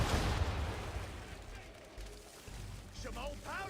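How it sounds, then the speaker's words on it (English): Ship cannons fire in an Assassin's Creed III naval battle, a heavy broadband boom at the start that rolls off into a long rumbling decay, with brief voice sounds near the end. "Now, aim all guns at her bow and do as much damage as possible."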